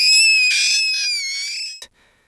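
A girl's high, piercing shriek performed as a dramatized effect in a ghost story, one long sustained tonal scream wavering in pitch before cutting off, followed by a short sharp knock and near silence.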